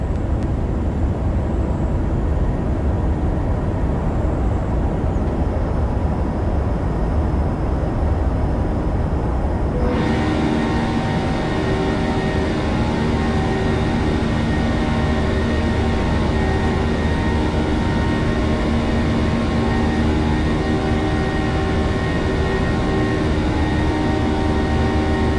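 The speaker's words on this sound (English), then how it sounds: "Takeoff out of Columbus, Ohio." An airliner's engines roar loudly and continuously during takeoff from Columbus, Ohio, a broad rushing thrust with steady tonal whine that shifts and strengthens partway through as power builds.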